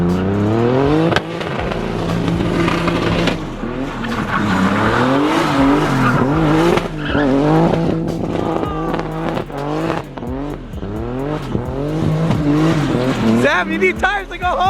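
A BMW E92 M3 and a turbocharged E30 drift in tandem: engines rev and rise repeatedly while tires squeal in long, loud runs, close and continuous, with occasional voices underneath.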